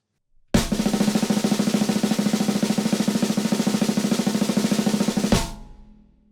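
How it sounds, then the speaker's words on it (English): A snare drum plays an even double stroke roll, a fast continuous buzz of evenly spaced strokes for about five seconds, starting and stopping abruptly, loud and close. "A good sounding double stroke roll might sound something like this."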